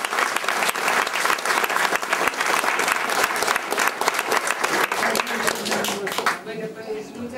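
Audience at a lecture breaking into loud, close applause with sharp individual claps, which fades out near the end as a voice begins speaking.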